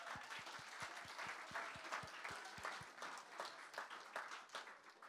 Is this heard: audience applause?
yes